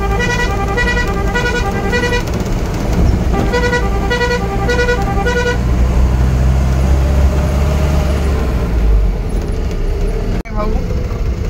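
A diesel pickup truck on a rough road gives a rapid series of tooting horn blasts over a steady low engine rumble, then the horn stops and the close, loud engine drone carries on alone.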